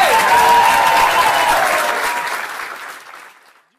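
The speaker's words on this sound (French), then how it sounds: "Du bruit pour Paris, s'il vous plaît." A Paris comedy-show audience bursts into loud, dense applause with some cheering, sustained for a few seconds before tapering away to silence.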